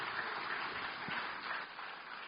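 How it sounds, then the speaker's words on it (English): Applause from an audience at a national environment symposium, a steady, even wash of many hands clapping that holds at moderate volume for a couple of seconds without a break. "A huge round of applause, ladies and gentlemen"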